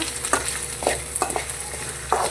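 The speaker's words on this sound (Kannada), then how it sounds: "ಚೆನ್ನಾಗಿ ಫ್ರೈ ಆಗಬೇಕು" Ginger frying in a pan for a military-hotel-style goat head and leg curry: steady sizzle with periodic scraping stirs of a spoon against the pan.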